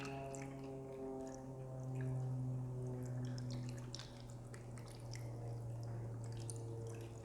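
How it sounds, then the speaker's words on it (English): Hydrogen peroxide is poured and dripped into water in a container for retrobrighting plastic, soft liquid trickles and drips over a steady low electrical hum, faint and close. "And then I'll add hydrogen peroxide."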